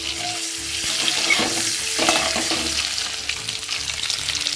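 An egg fries in a hot pan with a steady close crackling sizzle, a few faint utensil clinks and taps mixed in, continuous with no talking.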